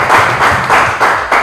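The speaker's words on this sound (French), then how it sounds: "Merci de l'applaudir Franck." Short rhythmic bursts of clapping from a game show audience in Lubumbashi, DR Congo, welcoming contestant Franck, a third-year student; the claps come in steady pulses about three times a second, close and fairly loud.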